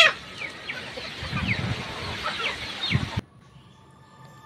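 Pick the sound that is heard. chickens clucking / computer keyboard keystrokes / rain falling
chickens clucking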